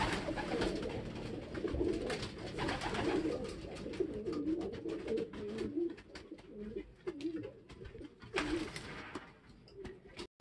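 Racing pigeons coo repeatedly in soft, throaty phrases amid a busy, noisy outdoor background at a pigeon race, with occasional bursts of louder rustling.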